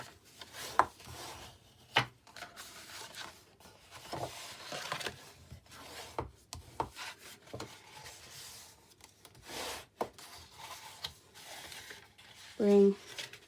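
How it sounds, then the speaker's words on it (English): Paper is folded and its score lines burnished while making a mini wine bottle bag, heard as soft, close rubbing and scraping strokes in short irregular bursts with quiet gaps. "We can then fold and burnish our score lines."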